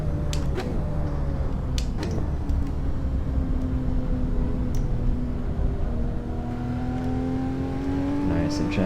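A race car engine in a racing video game holds a steady drone, then the pitch climbs smoothly as it accelerates, loud and continuous throughout.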